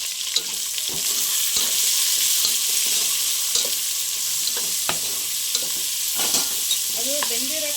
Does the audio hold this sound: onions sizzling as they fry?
yes